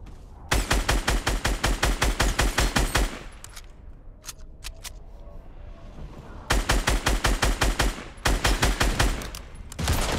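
Rapid automatic gunfire from the Fortnite video game, dense bursts of loud close shots that pause for a few seconds of quieter ambience with scattered single shots, then resume in long volleys.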